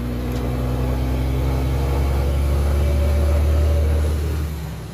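Scania truck engine fitted with a straight-through exhaust, a steady deep loud rumble idling close by for several seconds before easing off slightly at the end, with no voices.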